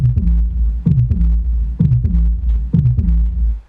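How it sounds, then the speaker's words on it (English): A very low tom serves as the bass line in a club track break, thudding in deep, boomy pairs with short decaying tails, repeating in a rolling groove. "The main bass thing going on in the break"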